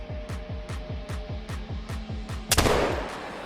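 A single sharp, loud rifle shot rings out at a moose in the hunting game theHunter: Call of the Wild, cutting through a steady, rapid rhythmic thumping pulse and a low hum, then tailing off in a short echoing decay.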